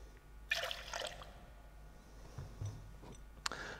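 Grapefruit juice poured for a Brown Derby cocktail, a short, quiet liquid splash and trickle followed by faint drips and a small click, close and soft.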